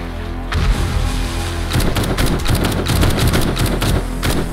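An assault rifle fires at zombies in the survival game 7 Days to Die, with dense, rapid bursts of shots loud and close, continuing almost without pause and no talking.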